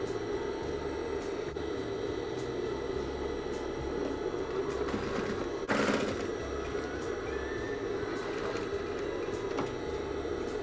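A sewing machine runs a long stitch along fabric while sewing a hidden-zipper trouser pocket, giving a steady, moderately faint mechanical whir that continues without a break.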